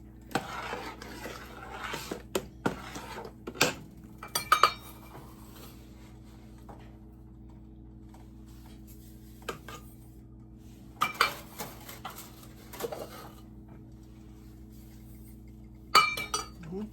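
A spoon clinks against the side of a pot while stirring sugar into strawberry jam, several sharp scattered taps with long quiet gaps between them, close by.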